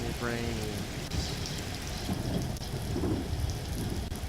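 Steady rain with rumbling thunder in the Discworld video game, a dense continuous wash of downpour throughout, with a brief voice-like tonal sweep at the start.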